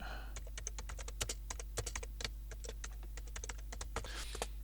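Rapid bursts of keystrokes on a computer keyboard as a command is typed on a Windows 10 PC, irregular clicks close and clear over a steady low hum, no talking.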